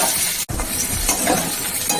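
Capsicum sizzles loudly in a pan with scraping stirring sounds; a brief cut in the noise occurs early, then the frying continues steadily.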